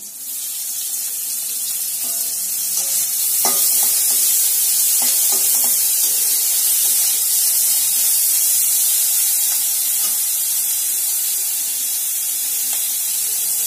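Onion paste sizzling steadily in a hot pan for cooking mushrooms, a loud continuous frying hiss lasting throughout, with faint utensil clicks and no talking.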